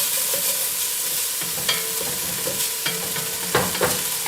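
Onions frying in a pan for lasagna, a close steady sizzle broken by scraping stirs and occasional clinks of the utensil.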